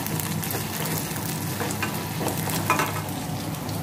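Chopped garlic and ginger frying in white oil in a pan, a steady close sizzle with faint scraping stirs throughout and no talking.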